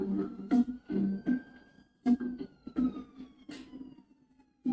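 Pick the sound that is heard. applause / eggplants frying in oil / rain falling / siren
siren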